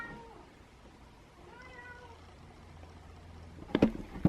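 A house cat meows to be let into a room after the door is shut, a few drawn-out cries in the middle, then sharper, louder bursts close by near the end.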